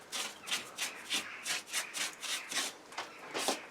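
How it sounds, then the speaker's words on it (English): Wire brush scrubbing an old stone house wall after repointing, a steady rhythm of about a dozen quick rasping strokes, close and alone. "I'm going to wire brush too and just give it a quick scrub and then a wash."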